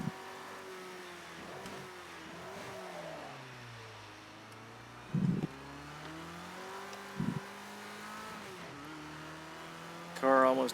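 A Ford Escort RS1600 engine in the Project Cars 2 racing game, revving up and down through gear changes at moderate volume, with a few short thumps along the way.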